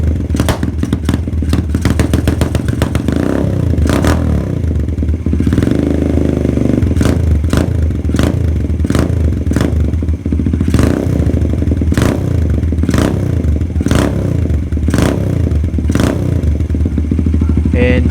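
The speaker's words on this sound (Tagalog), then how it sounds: "testing rin natin yung kinabit ng tropa natin na rumble idle" A Suzuki GD110 pit bike with a 57mm build idles loud and close with a rumble-idle setting, giving a choppy, lumpy engine rhythm broken by sharp pops and clattering blips throughout.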